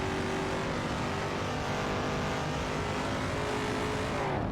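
Race cars roar around the track in a racing video game, one of them a Dodge Dart Hemi Superstock, giving a loud continuous engine drone that rises and falls as they accelerate, with no voices.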